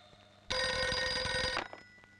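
A telephone rings once with a single loud electronic bell-like burst lasting about a second, clear and close against a quiet room background.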